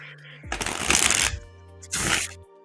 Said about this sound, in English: Ooh, nice shuffle.